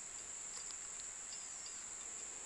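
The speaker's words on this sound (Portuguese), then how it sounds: "Vocês estão ouvindo o som das abelhas?" A faint, steady high buzz of insects around a flowering oiticica tree (Licania rigida) carries on without a break. It is quiet and continuous, with no talk over it.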